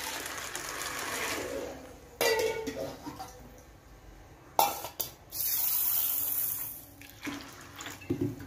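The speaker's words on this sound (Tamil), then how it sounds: "ரெண்டுலையும் தண்ணி ஊற்றி வச்சுக்கலாம்." Water is poured into two cooking pots in a home kitchen in two separate runs of steady splashing, broken by clanks of metal cookware.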